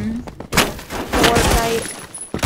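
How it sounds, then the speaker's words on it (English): Sawed-off shotgun blasts in the Roblox shooter Phantom Forces, two loud close bursts about a second apart with a rattling tail, over busy game noise. "I stole someone's sawed off because it's pretty good shotgun because it one-shots."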